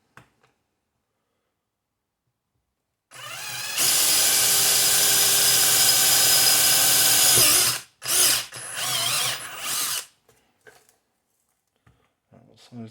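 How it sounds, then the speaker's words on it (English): A step drill bores into a plastic gauge pod for a custom turbo boost gauge, whining loud and steady for several seconds, then in a few short bursts, with quiet before and after. "so take the step drill"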